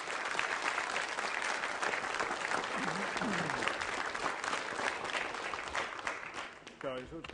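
Continued audience applause for Danish Oscar-winning animator Børge Ring fills the room, dense and steady, with a few brief voices breaking through near the middle and end.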